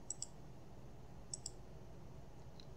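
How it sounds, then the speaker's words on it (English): Two pairs of light mouse clicks on a computer window, sharp and close, separated by a pause of about a second, over a quiet steady room hum. "You have to actually click on the window"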